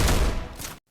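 A burst of gunfire in the shooter game Free Fire landing a headshot, a loud, dense volley of shots lasting under a second before cutting to silence.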